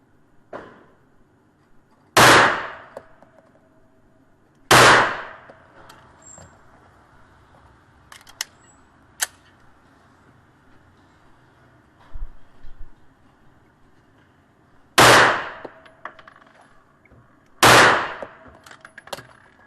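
A CZ 75 Tactical Sports pistol fires four loud, sharp shots at target practice, in two spaced pairs, with a short ringing tail after each and a quiet background between.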